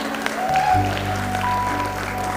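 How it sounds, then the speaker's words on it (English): Audience applause at a university management institute's annual convocation, a steady wash of clapping with tonal music or an announcer's hum underneath and sustained low tones entering partway. "Big round of applause for everybody."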